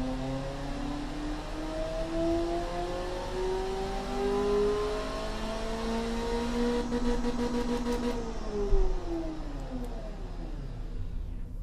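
A 2006 sports GT car in the Automation game, fitted with high-flow and freeway catalytic converters plus reverse-flow and straight-through mufflers, revs steadily upward toward its rev limit with a smooth rising whine, moderately loud and alone.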